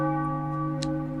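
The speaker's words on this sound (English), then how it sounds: "That's a phone call." A telephone bell rings steadily, a sustained tolling tone with strong overtones that holds for just over a second, loud and close with no talk over it.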